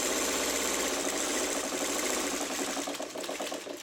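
A sewing machine runs steadily, stitching fabric down one side of a half square triangle quilt unit, its rapid needle chatter loud and continuous throughout, with no talking.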